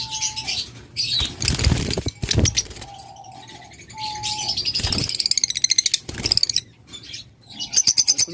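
Caged pigeons flutter and flap their wings in short bursts, with chirps and soft coos close by.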